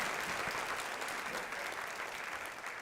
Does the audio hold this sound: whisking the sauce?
no